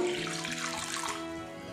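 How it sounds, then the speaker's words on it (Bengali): Water poured from a vessel into a heated kadai while cooking flat beans (shim), a steady close splashing pour with no talk. "এদিকে কড়াটা আমি গরম করে নিয়েছি, এর মধ্যে দিয়ে দেব জল।"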